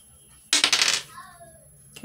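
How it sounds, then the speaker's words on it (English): Dice clatter onto a hard surface during a cash-stuffing savings game, a short burst of bright rattling impacts that fades within half a second, followed by a quiet tail and a small click at the end. "And the next one we're going to do is roll the dice."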